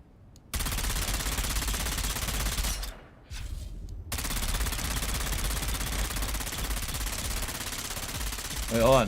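Sustained rapid gunfire from a gun in a video game, loud and continuous, broken by one brief pause before the shooting resumes and carries on to the end.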